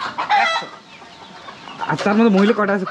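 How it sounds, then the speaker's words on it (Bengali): Native deshi chickens on a home integrated farm cluck and squawk close by, loud and irregular, while people talk over them. "আর এখানে কতগুলো দেশি মুরগি আছে?"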